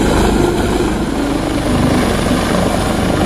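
A rescue helicopter hovers between the cables of a chair lift at Allai, Battagram, its rotor roar loud, steady and unbroken throughout.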